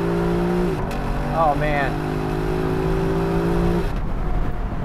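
A 2021 Lexus LC500 convertible pulls away hard from a dead stop with slight wheel spin, its engine rising through revs and shifting once in a loud, close pull, while a person speaks briefly over it.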